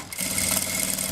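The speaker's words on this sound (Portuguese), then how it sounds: "E passo uma costura aqui nesse viezinho." A sewing machine stitches along fabric bias binding on a handbag, giving a steady, close mechanical whir that runs without a break for about a second, with no voice over it.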